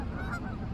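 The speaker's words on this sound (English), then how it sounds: "These Canada geese have exploded in the last few decades." A flock of Canada geese honks steadily in the distance, overlapping calls forming a continuous, fairly loud chorus in a rural outdoor setting in November.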